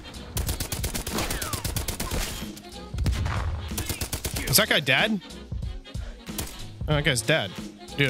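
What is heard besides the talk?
gunfire from a video game (Call of Duty: Cold War)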